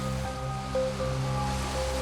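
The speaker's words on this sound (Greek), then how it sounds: "Η φωνή της θάλασσας." Sea waves wash in a continuous, fairly loud roar with a low steady rumble, heard alone for a couple of seconds on a shallow-water coast.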